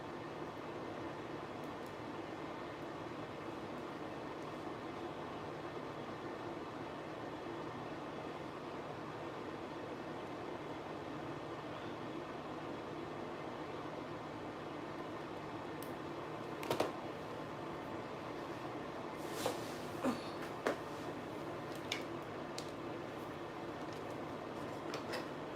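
A hooded salon hair dryer runs with a steady, even whooshing hum throughout, with a few faint clicks and knocks around it late in the clip.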